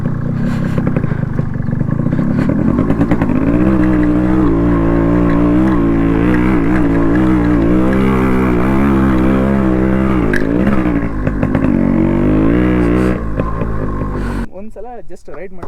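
Yamaha RX 135 two-stroke motorcycle, converted from an RX 100 and fitted with a 4-speed gearbox, riding on a road with a steady, loud engine drone. Talking runs throughout over the engine.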